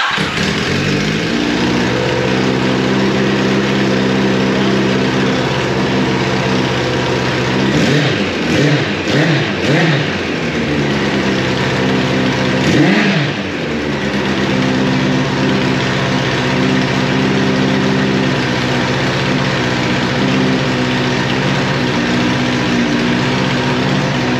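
1983 Kawasaki GPZ1100 motorcycle engine on fast idle, a loud, close, steady high-pitched hum with a few brief throttle blips partway through.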